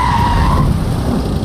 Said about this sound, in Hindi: गाड़ी रोक रहे।